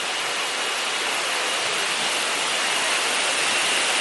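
Tad Mok waterfall pours in a steady, dense rush of water, close and continuous with no voices over it.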